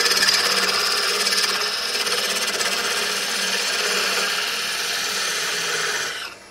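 A parting tool on a wood lathe makes clearance cuts in a wine bottle, a steady, close scraping hiss that runs for about six seconds and then stops abruptly, with no talking.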